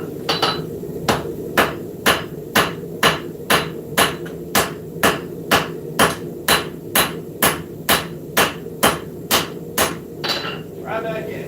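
A hammer strikes hot metal on an anvil during multi-metal forging, roughly twenty sharp, evenly spaced ringing blows in a steady rhythm, loud and close.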